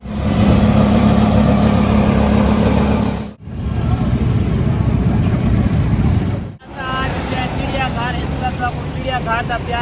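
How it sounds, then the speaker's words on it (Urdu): Busy Lahore street traffic of rickshaws, chingchi rickshaws and motorcycles, crowded for a procession: a loud continuous engine drone with horn-like tonal bursts, broken by two brief dips, under talk throughout. "سارے پاسے رکشے ہوندے نے، اتھا چنگچی ہیں، اتھا کوئی ہور ڈیزائن دے رکشے ہیں، اتھا زیادہ تر موٹر سائیکل ہوندے نے"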